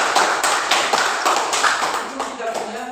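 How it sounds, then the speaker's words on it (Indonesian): A junior high school class claps hands together in a classroom, a short rhythmic burst of clapping that slows and thins out, with voices briefly audible near the end. "Tepuk tangan untuk Tiara."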